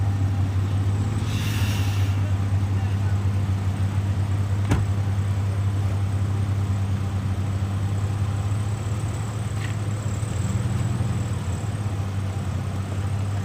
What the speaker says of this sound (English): can't you see all the cars and the trucks?